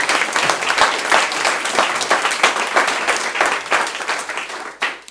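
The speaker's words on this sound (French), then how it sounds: "vous pouvez l'applaudir." An audience applauds a speaker, loud, sustained clapping from many hands filling the room, with a few isolated sharper claps near the end.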